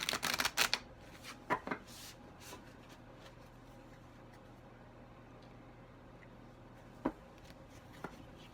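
A brand-new moon tarot deck, fresh out of the box, shuffled by hand: a quick flurry of soft card slaps and riffles at the start, then a few isolated taps over a quiet room hum.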